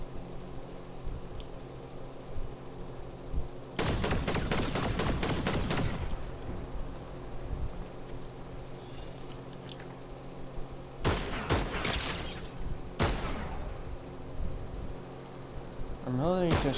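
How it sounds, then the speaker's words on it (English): Fortnite gunfire arrives in a few short, loud bursts of rapid shots separated by long quieter stretches of game ambience, with faint talk in between. "I'm really just shooting the Man of Steel down"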